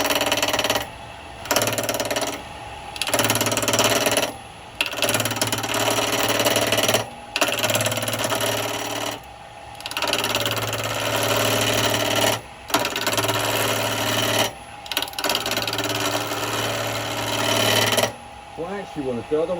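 Spindle gouge taking light cuts on square wood stock spinning on a lathe for a Japanese birdhouse, a loud scraping rasp in repeated bursts of a second or two separated by short pauses.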